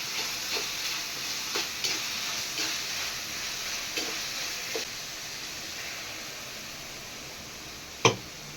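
Masala frying in a pan for an egg kuzhambu made without tomato, a steady soft sizzle and hiss with light stirring clicks, ending with one sharp knock near the close.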